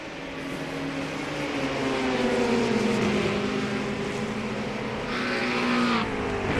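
Race cars at the 24 Hours of Le Mans, LMP2 and GTP prototypes, roar past with a steady loud engine drone. The pitch slides as they pass, and a higher whine joins near the end. No one speaks.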